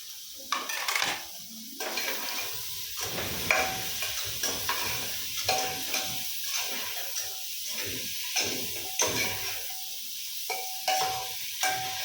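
Tomatoes go into a hot frying pan and sizzle steadily, with a spatula scraping and clinking against the pan in an irregular rhythm, close by.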